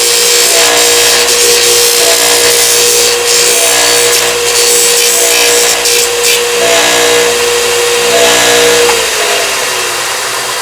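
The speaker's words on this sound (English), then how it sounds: "I'll just grind till I start seeing sparks and I know I'm flat" A sander grinds down the saddle of a Martin 00028 guitar. A loud, steady motor whine with a rough grinding hiss carries on without a break, then the pitch drops as the machine winds down near the end.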